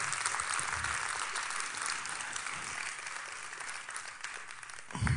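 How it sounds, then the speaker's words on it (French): Theatre audience applause at a school drama festival closing night, steady dense clapping filling the whole stretch, fairly loud and continuous with no talk over it. "on peut applaudir très fort pour que l'ambiance puisse être là"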